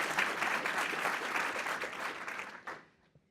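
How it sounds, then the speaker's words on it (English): An audience at a city mayor's state of the city address applauds in a dense, even wash of clapping that fades out over a few seconds, with a last few scattered claps at the end. "yeah, we can clap for that, that's okay."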